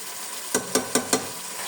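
Potatoes and eggplant hit hot masala in a pan, giving four sharp, evenly spaced sizzling bursts over a quiet steady frying hiss.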